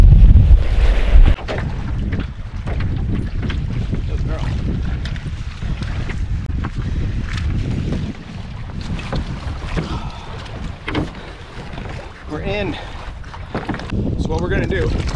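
Strong wind buffets the microphone over lapping waves around a canoe on a high-water spring lake, a steady loud rush throughout with brief bursts of people talking.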